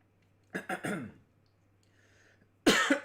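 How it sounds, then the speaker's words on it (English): Two bursts of harsh coughing, the first a quick cluster of three coughs, then a pause of near silence before another loud cough. "I do apologize for this cough here"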